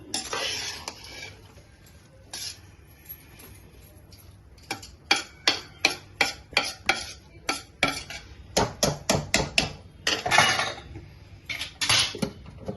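A spoon scrapes and clanks against a pot while biryani masala is stirred into mutton biryani, Dindigul style: a run of sharp rhythmic metallic knocks, close and distinct, growing denser midway, with no voices.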